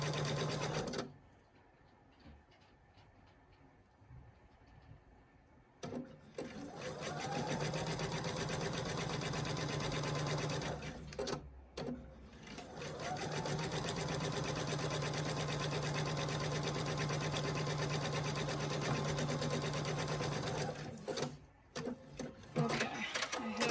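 A sewing machine fitted with quarter-inch seam tape stitches an apron seam in two long, steady, fast runs separated by a short pause, loud and close with no talk over it.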